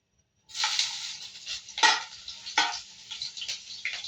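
Ginger hits hot cooking oil in a pan, setting off a steady, loud sizzle with bursts of crackling and occasional stirring scrapes, close and continuous.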